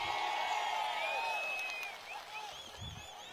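A distant, fairly faint crowd applauds at a TDP political rally in Srikakulam, with sharp whistles rising and falling over the clapping and a slight fade toward the end.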